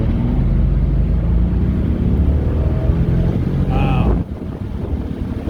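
A 2013 Mercedes SL550 bi-turbo accelerates with a steady, loud, smooth roar and heavy rushing wind noise, easing off near the end, while a voice briefly exclaims.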